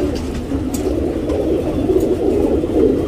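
Fancy pet pigeons coo in a low, continuous, throaty murmur close by, repeating steadily throughout with no talking.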